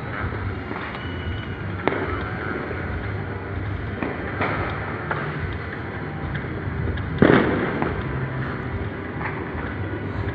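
New Year fireworks pop and thud at a distance over a steady wash of outdoor noise, scattered isolated bangs with one louder burst near the end.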